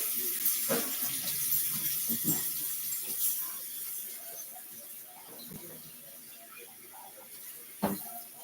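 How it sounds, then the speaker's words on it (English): Dishes being washed under a running tap in a kitchen sink, a steady hiss of flowing water with scattered clinks and knocks and a sharper clatter near the end, with no talking. "I'm going to go ahead and just wash some dishes"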